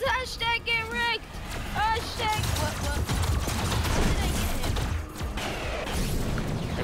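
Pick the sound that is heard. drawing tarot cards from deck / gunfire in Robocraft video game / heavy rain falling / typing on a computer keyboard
gunfire in Robocraft video game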